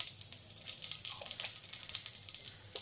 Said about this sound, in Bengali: এবার মশলাটাকে আমি একটু ভাজা ভাজা করব